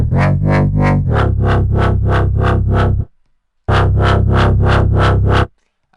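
A dubstep bass synth patch from Logic's ES2 with soft, dark distortion, pulsing in rapid wobbling bursts, loud and heavy, in two phrases separated by a short silence.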